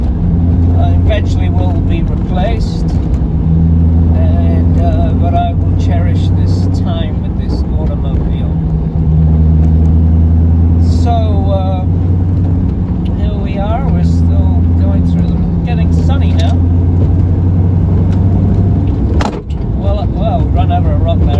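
A C5 Z06 Corvette drives on a mountain road toward Mount Baldy in Southern California, its engine a loud steady drone with pitch shifts as it accelerates, heard from inside the car under continuous talk.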